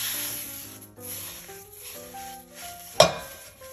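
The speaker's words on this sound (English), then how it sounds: "usually I just use a wet Bounty just to kind of clean my wok here" A wet paper towel rubs and scrapes around the inside of a wok while cooking Singapore mei fun, soft continuous wiping close up, ending in a sharp brief scrape, with no talking.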